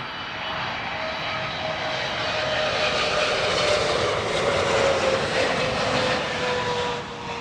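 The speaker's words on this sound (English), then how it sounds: "Next in, this is Air Canada flight 858 on a 777-300ER. This one inbound from Toronto." An Air Canada Boeing 777-300ER, inbound from Toronto, lands at London Heathrow with a steady, loud jet roar that swells and then fades slightly near the end, with no voices.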